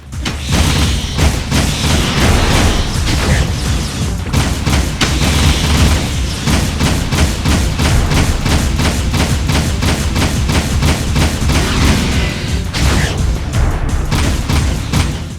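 Rapid, loud bursts of gunfire hammer away during a boss fight against Cora in the video game Jak II, repeated shots in quick rhythm mixed with heavy booms and thuds, continuous throughout with no pauses.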